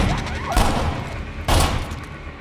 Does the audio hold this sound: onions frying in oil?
no